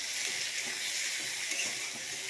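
Onion and tomato sizzle steadily in hot oil in a pan, a dense, even frying hiss with faint stirring texture throughout and no voices.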